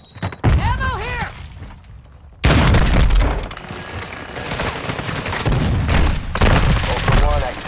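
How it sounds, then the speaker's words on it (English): A sticky grenade thrown and exploding in a first-person shooter match, heavy booming blasts amid ongoing gunfire and battle noise, with a player talking over the action. "Tossing sticky grenade"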